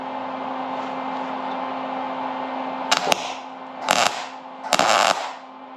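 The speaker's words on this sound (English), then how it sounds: "Now you just simply try to tack weld the corner." Tack welding the corner of a metal plate, three short crackling bursts of arc, each about half a second, breaking out over a steady background hum and hiss.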